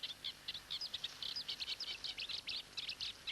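Cetti's warbler, rival males calling, a quick run of loud, sharp, bright notes in clipped bursts, fairly close and clear over a quiet background.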